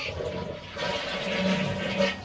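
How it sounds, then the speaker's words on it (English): A toilet flushing up close, a steady rushing and gurgling swirl of water that holds for a couple of seconds at fairly constant loudness, with no talk over it. "here comes the flush"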